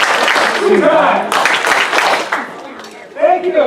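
A group of people claps on cue, giving short bursts of clapping that rise and fade between stretches of a person talking.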